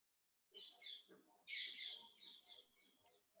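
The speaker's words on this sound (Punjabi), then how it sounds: "ਤੁਹਾਡੇ ਪਿੱਛੋਂ ਚਿੜੀਆਂ ਦੀਆਂ ਆਵਾਜ਼ਾਂ ਮੈਨੂੰ ਆ ਰਹੀਆਂ ਨੇ" Small birds chirping in the background of a home online call, a few bright, faint chirps and tweets heard in short bursts.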